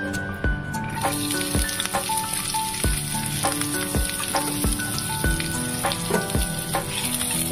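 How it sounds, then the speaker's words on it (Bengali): Chopped onion goes into hot oil in a pan and sizzles loudly and continuously, with crackling pops throughout and soft tonal background music. "তো আমি এখন দেখুন তেলটা আমার হয়ে গেছে, এখন এর মধ্যে দিয়ে দিচ্ছি আমি পেঁয়াজ কুচনোটা।"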